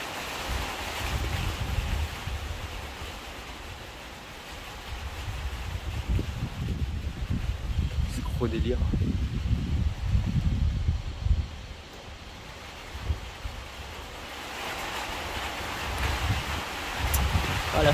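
Heavy rain and gusting wind during a violent thunderstorm in the Alps near Grenoble, a steady loud rushing wash with low rumbling gusts and buffeting on the microphone, and a person speaking briefly over it.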